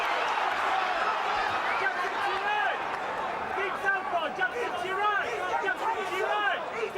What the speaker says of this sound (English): The crowd nervous, but loving the action